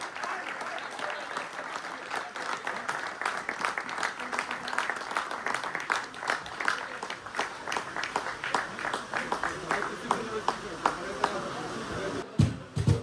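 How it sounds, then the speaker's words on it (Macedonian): A crowd gives sustained, dense applause for young football champions at a club awards ceremony, steady and fairly loud throughout, with voices mixed in. "Ајде уште еден голем аплауз за овие златни деца, нашата иднина."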